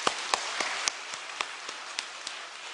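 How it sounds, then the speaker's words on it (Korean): A church congregation claps in praise, a sparse run of separate claps spaced unevenly, quiet and slightly distant, with soft background noise between them. "우리 하나님께 영광의 박수 올리겠습니다"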